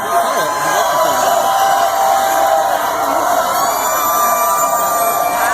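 A large crowd at a Trump rally in Manassas roars and cheers continuously, a dense sustained wall of voices with whoops and shrill whistles running throughout.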